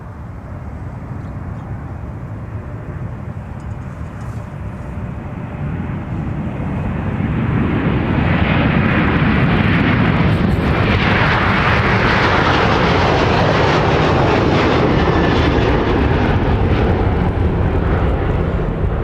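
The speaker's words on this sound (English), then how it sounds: "watch and listen to Delta 312 Heavy departing for Honolulu" Delta 312 Heavy, a jet departing Minneapolis–St. Paul Airport for Honolulu, thunders in a loud, sustained engine roar that swells after a few seconds as it climbs out, then stays heavy and rumbling.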